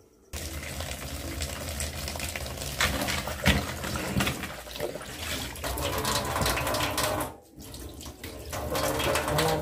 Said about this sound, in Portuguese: E agora eu vou prosseguir aqui nas minhas folhas ali que eu tenho que lavar